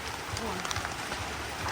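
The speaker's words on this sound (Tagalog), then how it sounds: "Grabe ang ulan" Heavy rain pouring down in a steady, dense hiss of drops hitting surfaces, continuous and fairly close, with no talking.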